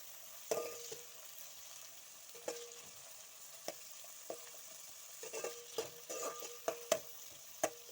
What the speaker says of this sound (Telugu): ఆనియన్స్ కొద్దిగా గోల్డెన్ బ్రౌన్ వచ్చే వరకు మనము ఫ్రై చేసుకోవాలి